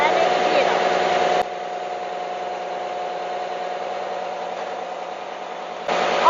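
A DTS 619 diesel injection pump test bench runs steadily with a constant mechanical hum and whine, louder at the start and end with a quieter stretch in between.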